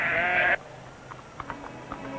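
A sheep on the moor gives one loud, close, wavering bleat lasting about half a second, followed by quiet outdoor background with a few faint knocks.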